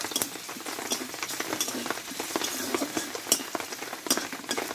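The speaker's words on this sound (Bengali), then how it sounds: "এইগুলো একটু ভালোভাবে ভেজে নেব, পাঁচফোড়ন আর আদাটা।" Steady oil sizzling and crackling from panch phoron and ginger frying in a pan, with frequent sharp pops and spatters, close and continuous, no voices.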